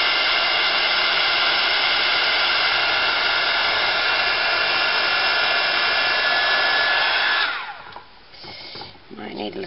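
A hair dryer blows steadily and loudly to dry mica dye powder for about seven and a half seconds, then cuts off, leaving faint handling noises.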